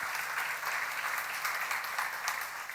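Steady applause from a crowd at a church sermon seminar, a dense wash of clapping that holds at an even level for the whole stretch without pause.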